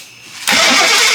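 An old Jeep engine that had sat unused for 25 years starts abruptly partway through, jumping from quiet to a loud, steady close-up roar.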